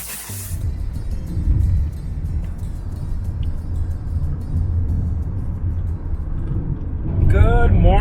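Rented car driving on the road in central Turkey, heard from inside as a steady low engine and road rumble, with a voice talking over it at the end.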